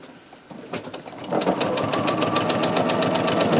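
A sewing machine stitches through a soft Minky quilt, starting slow and quiet and then running at a fast, steady rhythmic chatter, close up with no talking.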